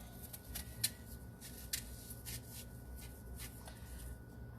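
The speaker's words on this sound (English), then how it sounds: "Just cutting out the core here." A knife cuts the core out of an apple, giving quiet, close scraping and slicing strokes in short bursts over a low steady background.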